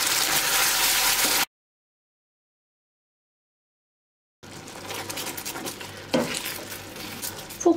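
Butter and cream bubble and sizzle in a pan amid stirring and utensil scrapes, broken by a long stretch of silence before the bubbling resumes.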